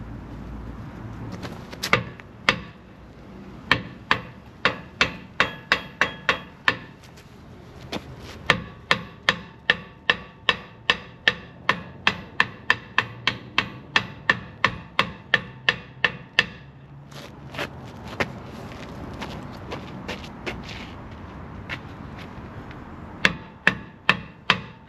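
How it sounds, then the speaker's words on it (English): Metal hammer tapping repeatedly in quick rhythmic bursts, sharp close strikes in runs of several hits with brief pauses between groups. "I'll get the hammer."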